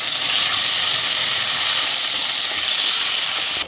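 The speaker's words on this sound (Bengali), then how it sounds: "কড়াতে তেল দিয়ে দিয়েছি, আবার এই যে চিকেনটা দিয়ে ভেজে নেবো ভালো করে।" Chicken frying in oil in a wok, a steady loud hissing sizzle that holds evenly throughout and cuts off at the end, with no talking.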